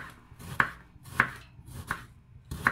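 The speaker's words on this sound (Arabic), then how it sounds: "وكنقطعوه الى دوائر رقيقه." A knife cuts an eggplant into thin rounds on a cutting board, giving four crisp slicing chops at a steady, unhurried pace, close up and alone.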